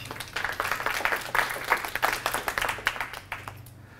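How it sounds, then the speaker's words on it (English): A round of applause for a speaker at a tech conference talk, dozens of hands clapping in a lively close-up burst that peaks and gradually fades over a few seconds, with a low hum beneath. "let me have a round of applause for William."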